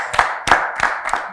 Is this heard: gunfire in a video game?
no